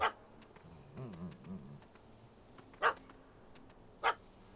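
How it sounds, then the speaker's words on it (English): A dog in the Witcher 3 Hearts of Stone video game barks and chases a cat up a tree, with a few sharp, fairly loud barks spaced apart and some quieter whimpering growls between them. "Dog is trying to kill him."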